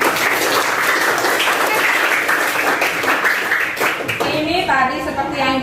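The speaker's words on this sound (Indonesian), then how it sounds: "Tepuk tangan lagi untuk Andika." Applause from a classroom of students fills the room, steady clapping throughout, with a voice speaking over it toward the end.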